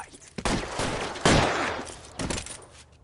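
Gunfire in a video game police shootout, several sharp bursts of shots in quick succession, loud and close, with a brief lull between volleys.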